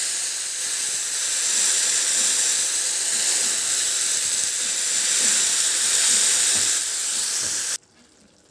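Onion and potatoes hit hot oil already crackling with mustard seeds, cumin and turmeric, producing a loud, steady hissing sizzle that cuts off abruptly near the end.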